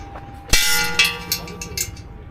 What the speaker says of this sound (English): so many of these bells here.